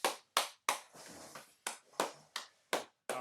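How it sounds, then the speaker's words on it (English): A small group clapping hands at a self-isolation home workout, nine or so crisp, close claps in an uneven rhythm with one longer scattered burst near the start, with no talking. "And then give yourself a clap."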